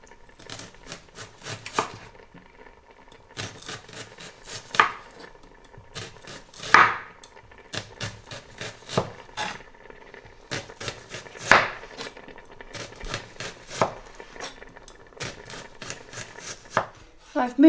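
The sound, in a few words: knife chopping onion, garlic and coriander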